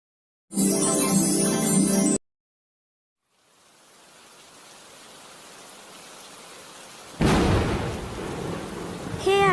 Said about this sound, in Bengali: আল্লাহ যেভাবে বৃষ্টি হচ্ছে